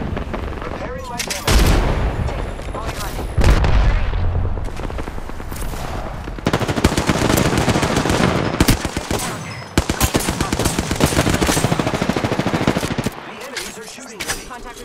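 Rapid enemy gunfire rattles in Apex Legends, with dense automatic bursts, booming impacts and battle noise filling most of the stretch, loud and close, as a player talks over it.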